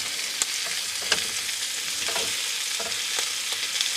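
Old sheep meat frying in a pan, a steady close sizzle with a few sharp crackles and pops, no voices.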